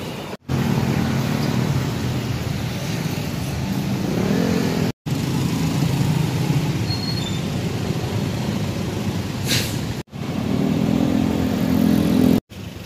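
Motorcycles and traffic roll past continuously on a busy highway in Dau, Mabalacat, Pampanga, a close, loud engine drone with brief dropouts and no talking.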